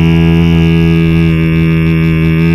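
A voice imitates a robot in beatbox style, producing a loud, sustained, buzzy, heavily harmonic drone that holds steady for a couple of seconds, close to the microphone and with no words.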